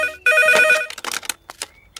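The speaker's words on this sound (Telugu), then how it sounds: "రే ఫోన్ మోగింది" Telephone ringing loudly in a Telugu movie scene, one bright electronic ring burst followed by clatter and brief handling sounds.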